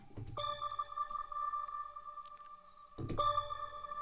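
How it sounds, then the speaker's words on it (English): Self-oscillating filter resonance from a Pigments 6 synth preset, a pure sustained whistling tone that holds, drops out briefly, then returns, clear and alone with a soft low thump at each onset. "the resonance at some point it's self-oscillate and at some it's not."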